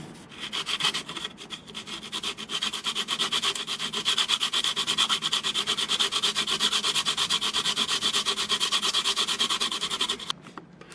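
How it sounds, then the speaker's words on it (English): Sandpaper rubbing rapidly back and forth across the underside of a balsa model glider wing held at a bench edge, a continuous close scratchy rasp with steady fast strokes, no talking. "I'm going to hold it on the end of the bench very gently, and I'm just going to sand that off"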